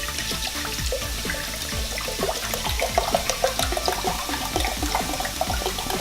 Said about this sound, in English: Very careful with the hydrogen peroxide. Okay, we're just gonna submerge them in that.